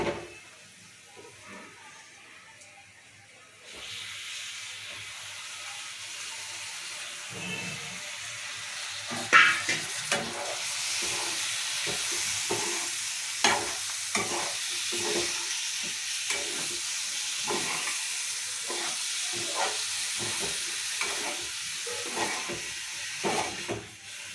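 Liver sizzles loudly in a hot pan with salt and chili powder, stirred with steady scraping clicks over a continuous frying hiss that starts after a quiet opening few seconds.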